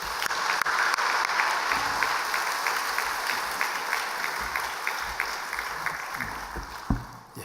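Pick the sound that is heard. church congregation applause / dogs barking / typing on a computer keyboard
church congregation applause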